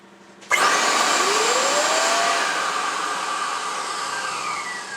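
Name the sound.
Diamond Jet 1200 dust containment system motor running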